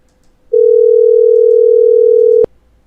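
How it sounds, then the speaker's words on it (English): A single steady electronic telephone tone sounds on a call, loud and unbroken for about two seconds, then cuts off abruptly with a click; no talk over it. "Yeah, I hear the ringing."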